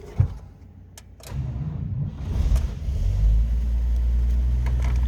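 A 1950 Chevrolet Styleline Special two-door business coupe starts with a little choke and its starter button: a click, a brief crank, then the engine catches and settles into a steady, deep idle rumble close by.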